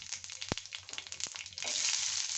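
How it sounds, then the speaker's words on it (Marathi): Dry coconut and cumin roasting on a blackened griddle, a light crackle and scrape of stirring that swells into a steady, louder sizzle in the second half. "खोबरं व्यवस्थित आपल्याला भाजून घ्यायचं आहे।"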